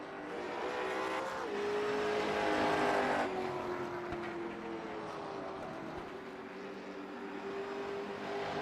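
Late model race cars on warm-up laps at Thompson speedway, engines droning in a continuous loud roar with pitch rising and falling as cars pass by, a steady multi-car rumble without pause.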